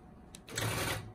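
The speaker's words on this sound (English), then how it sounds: "I'm gonna do needle down, needle up. I'm gonna do my locking stitch." A quilting sewing machine makes a short locking stitch, one brief burst of mechanical whirring and clicking, close and fairly quiet, with no talking.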